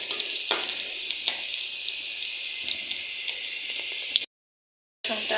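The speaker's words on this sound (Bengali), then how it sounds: "পটলের ছিলকাগুলো এগুলোকে একটু ভালো করে ভেজে নেব ব্রাউন কালার করে নেব" Pointed gourd peels frying in hot oil until brown, a steady close sizzle with small crackles and pops, briefly cutting to silence before resuming.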